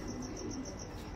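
A 2016 Leo Hermans racing pigeon gives a soft, low cooing call, faint and close, repeating in a gentle pulsing rhythm against a quiet background.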